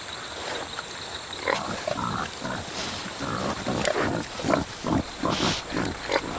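Wild peccaries in the Colombian Amazon grunt and snuffle close by, a run of short, rough bursts that grow busier toward the end, with no voices.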